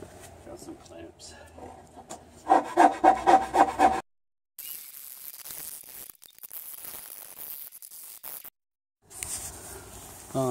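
Rough hand sanding and filing of a wooden rudder edge, heard as a quick burst of loud, rhythmic rasping strokes followed by longer stretches of softer, scratchy rubbing with brief pauses between.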